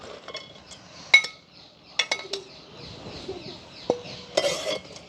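Fried elephant foot yam being stirred in a cooking pot, with scattered metallic clinks and scrapes of a utensil against the pot in short bursts, close and moderately loud.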